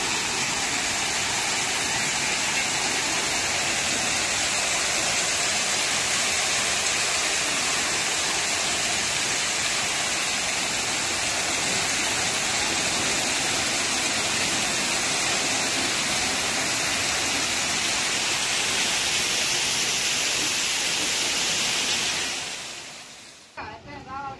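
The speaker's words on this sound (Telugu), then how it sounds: "వాటర్ అది శబ్దం కూడా మీరు అబ్జర్వ్ చేయొచ్చు" Water pouring and rushing inside a historic stepwell at Rashtrapati Nilayam in Telangana, a steady loud broadband roar like a waterfall that holds for about 22 seconds, then cuts off abruptly.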